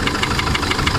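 An Isuzu D-Max with the 4JJ1 diesel engine idles up close with a rapid, even, metallic knock repeating over the running engine.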